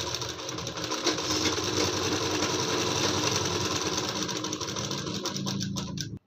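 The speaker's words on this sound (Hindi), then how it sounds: "अब इसमें भी हाफ हाफ इंच पकड़ते हुए सिलाई को गला पे लगा देना है।" A sewing machine stitches lining onto the neckline of a net-fabric kurti, running continuously with a fast, even mechanical chatter before stopping abruptly at the end.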